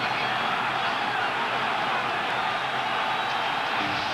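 A football stadium crowd at an NFC Championship game makes a broad, steady roar that stays constant throughout without distinct cheers or peaks.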